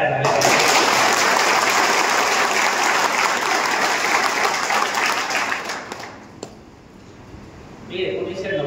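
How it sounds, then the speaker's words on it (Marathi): An outdoor crowd at a rally for ambulance drivers' demands breaks into loud, dense applause that holds strong for several seconds, then fades to scattered claps before some noise rises again. "जोरदार टाळ्या झाल्या."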